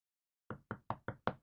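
Knuckles rap on a door as friends arrive: five firm, evenly spaced knocks, close and clear, with nothing else around them.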